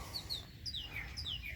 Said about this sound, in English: There's a woodpecker right now.